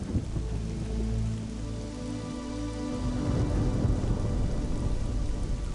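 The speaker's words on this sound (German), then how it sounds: "Der Blitz war auf jeden Fall kein gutes Zeichen." A thunderstorm in the god game Black & White, with heavy rain pouring steadily and deep thunder rumbling underneath, swelling louder in the second half without any talk.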